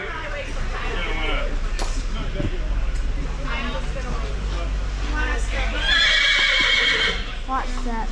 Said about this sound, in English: Those are nice horses.